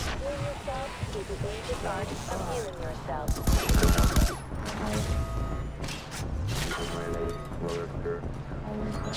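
Repeated gunfire bursts in the Far Cry 3: Blood Dragon video game, sharp cracks mixed with booms and dense game effects, loudest in a heavy salvo partway through, with a voice talking over the action.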